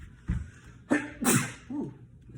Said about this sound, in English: Well, I gotta sneeze.